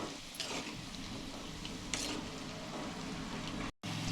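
Small amla gooseberries frying in hot oil over a low flame, giving a steady soft sizzle with faint stirring clicks and no voices.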